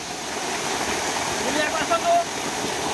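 Steady rushing water roars throughout from the Durga Ghati waterfall at Siuli, Ganjam, a broad wash of falling water close by, with faint voices murmuring underneath.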